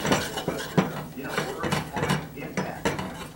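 Spoon stirring flour into a cheesesteak mix of fried onions, peppers and mushrooms in a pan, giving repeated clinks and scrapes in an uneven rhythm, close and fairly steady.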